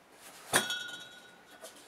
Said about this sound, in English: This is, it's a beer glass.